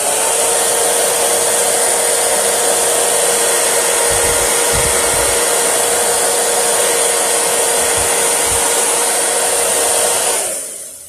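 A hair dryer blows steadily and loudly at close range to dry chalk paste, a constant whooshing hum running for about ten seconds before cutting off at the end.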